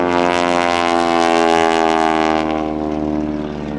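A propeller aerobatic plane at the 2007 Abbotsford International Airshow drones steadily and loudly overhead during rolls, its engine tone holding near-constant with slight wavering before easing off toward the end.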